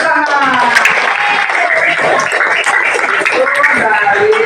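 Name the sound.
class clapping hands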